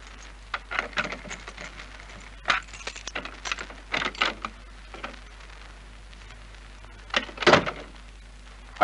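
Skeleton keys rattle and scrape in a hotel room door lock, a run of small metallic clicks and jiggles in bursts over several seconds, with a louder clatter near the end, fairly close and otherwise quiet.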